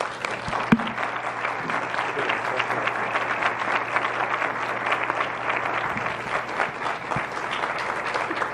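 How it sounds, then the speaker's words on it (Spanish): A lecture audience at a university talk applauds warmly and continuously, a dense, even wash of many hands clapping from start to finish, with one sharp knock near the start. "con un fuerte y caluroso aplauso."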